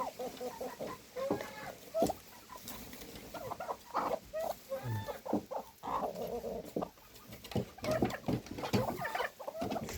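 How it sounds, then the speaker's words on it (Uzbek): Two-year-old laying hens cluck and chatter close by, with short, irregular calls over rustling and shuffling movement in a farmyard. "Tuxum tug'adigan tovuq bu."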